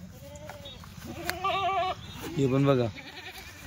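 Kathewadi goats bleating close by, two distinct wavering bleats, the second longer and louder, heard between a man's speech.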